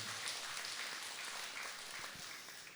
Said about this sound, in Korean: 박수 한번 보내주시면 고맙겠습니다.